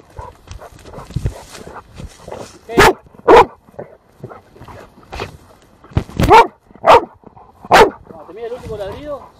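A dog barks in loud, sharp bursts, two close together and then three more spaced apart, during a K-9 training practice session, with speech heard between the barks.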